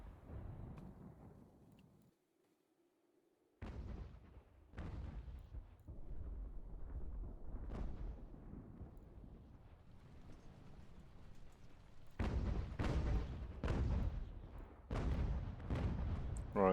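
Cannon fire in an American Revolution battle game, several sharp booming blasts at intervals, clustering into rapid volleys near the end over a low battlefield rumble, no voices.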